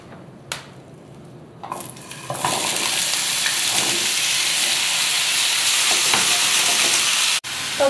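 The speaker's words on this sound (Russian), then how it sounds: "На этой же сковороде обжариваю" Potatoes hit a hot pan already used for frying chicken and break into a loud, steady sizzle and hiss after a few soft clinks, continuing close up until a brief cut.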